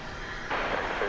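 An Aeromexico Connect Embraer 190 jet at DFW Airport gives off a distant, steady broadband engine roar that swells noticeably halfway through and then holds.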